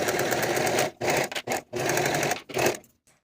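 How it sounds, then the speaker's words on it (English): A sewing machine stitches fabric seams at a quarter-inch allowance, running in steady loud bursts broken by short pauses, close and alone. "And I'll sew these seams with the 1/4 inch seam allowance that I've added."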